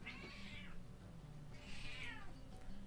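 A cartoonish cat meows twice in a video game, each call a drawn-out falling mew over a steady low musical backdrop.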